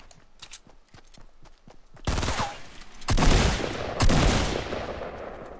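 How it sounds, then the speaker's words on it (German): Gunfire hits the player in the Fortnite video game, a run of sharp rapid shots followed by several loud, heavy blasts and crackling bursts in close succession. "Oh scheiße, ich werde angeschossen."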